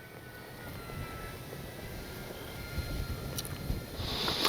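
An E-flite D-18 twin-engine warbird RC model airplane doing a touch and go, its steady engine drone rising and swelling as it passes closer, with no talk over it.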